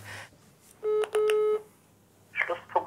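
A phone number is keyed in to call a hotline: a quick run of close DTMF touch-tones, with a person speaking briefly before and after.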